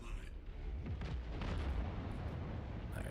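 A deep, rumbling blast in the Star Citizen video game swells and rolls for a few seconds, loud and heavy in the low end, with a faint crackle trailing off afterward.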